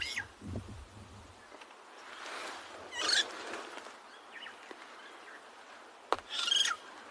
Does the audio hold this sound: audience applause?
no